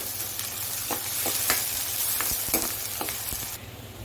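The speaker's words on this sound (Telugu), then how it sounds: "ఇప్పుడు అల్లం వెల్లుల్లి పేస్ట్ వేసుకుందాం" Ginger garlic paste fries with onions in a pan, a constant close sizzle broken by repeated scraping strokes of a stirring spoon, with no voices.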